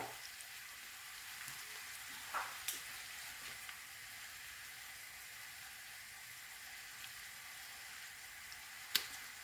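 Salted onions cooking in a covered pan, a faint steady sizzle with a few soft clicks, quiet and even throughout.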